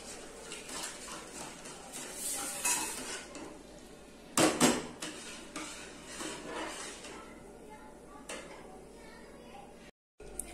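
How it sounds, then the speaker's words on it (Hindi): A spoon clinks and scrapes against a pot while coconut kulfi mixture is stirred, with irregular metallic taps and one louder clatter, fairly close, amid background noise. "और इसको अच्छे से मिक्स कर लेंगे।"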